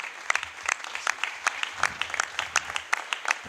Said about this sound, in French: Je pense qu'on peut acclamer pour le Seigneur.